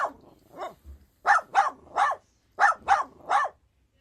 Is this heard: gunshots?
no